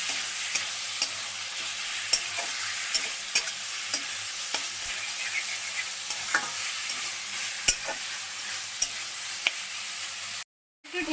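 Chicken with broccoli and ground spices sautéed and stirred in a pan, a continuous close sizzle broken by repeated spatula scrapes and taps against the pan, no voices, ending with a brief silence.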